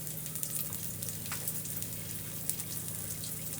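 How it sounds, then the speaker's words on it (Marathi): Methi paratha roasts in oil on a hot pan, giving a continuous soft sizzle and crackle with faint pops, close and steady, with no talking. "तर हे शेकलं जातंय छान असं या साईडने मी तेल लावते"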